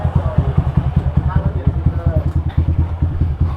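A Kawasaki ZX-6R sport motorcycle engine runs close by with a fast, throbbing idle that pulses evenly throughout.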